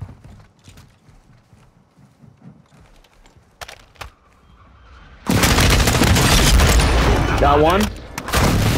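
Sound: friendly airstrike explosions in Call of Duty Warzone video game

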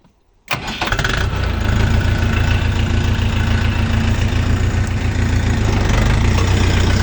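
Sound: Dong Feng tractor engine running while pulling plough

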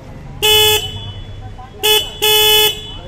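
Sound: motorcycle horn

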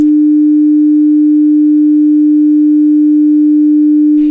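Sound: pure sine wave tone

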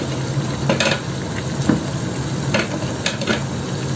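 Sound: stirring cauliflower and potato in a pan

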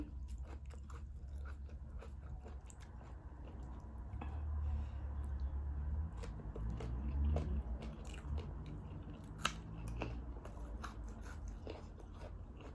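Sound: chewing and biting while eating papaya salad

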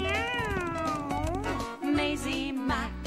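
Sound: cartoon cat meowing

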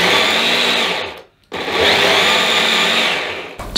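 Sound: blender blitzing garlic and onions

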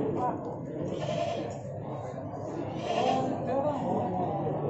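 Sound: goats bleating

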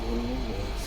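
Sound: minibus engine revving

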